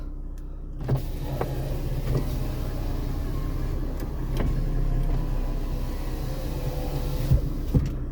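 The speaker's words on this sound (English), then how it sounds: "We'll do the passenger side windows." Passenger-side power windows on a 1995 Mercedes E300 whir steadily up and down with the engine idling underneath, with a few soft clunks as the glass reaches its stops.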